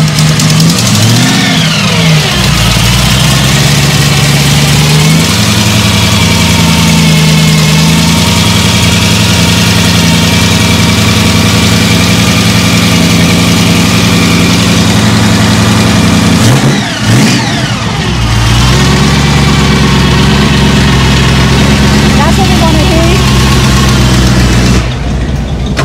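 A modified street machine engine idles loud and close at the Street Machine Nationals pro street alley, a steady heavy rumble with brief revs and lumpy variation throughout.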